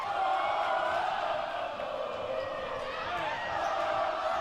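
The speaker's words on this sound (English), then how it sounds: "Man, the crowd is jacked up on their feet" A girls' high school volleyball crowd in a packed gym, on their feet during set point, keeps up a loud, continuous roar of cheering and shouting that fills the whole stretch.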